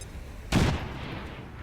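A single grenade blast in the XCOM video game, one sharp, loud boom with a heavy low thump that quickly decays into a short rumbling tail, with no talk over it.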